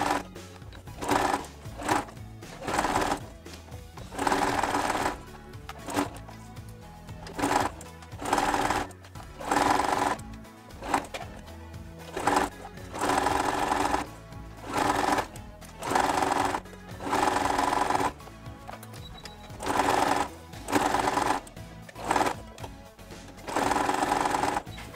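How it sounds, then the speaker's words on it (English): A sewing machine quilts fabric pieces together with close, rapid mechanical stitching that runs in repeated bursts, broken by short pauses throughout. "And now we are just going to sew the whole thing"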